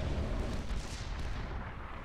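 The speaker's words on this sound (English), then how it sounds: "Oh, that was another volley in the centre of the army." Dense, rumbling artillery barrage hitting an army in the Supreme Commander 2 strategy game, a continuous wash of overlapping explosions and gunfire at steady loudness.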